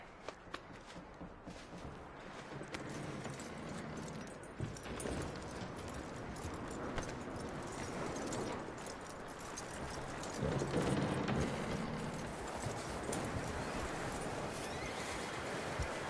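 Horse hooves clip-clop steadily through the Red Dead Redemption video game, fairly faint and continuous under a wash of wind-like outdoor ambience, with no talking.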